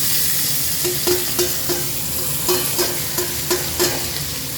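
Salted, turmeric-rubbed fresh fish frying in hot oil for a potato-greens curry, a loud steady sizzle broken by periodic spatters and pops close to the pan.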